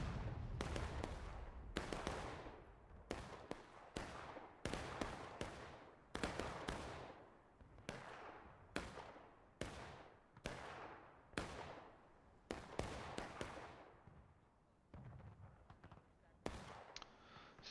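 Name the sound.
artillery cannon fire in a Civil War video game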